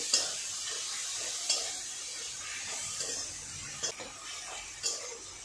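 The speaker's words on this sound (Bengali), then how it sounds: "এটা ভালো করে কষে নেব।" Spices with salt and turmeric sautéed in a pan for egg curry give a soft, steady sizzle with a few sharp utensil scrapes and taps against the pan, no voices.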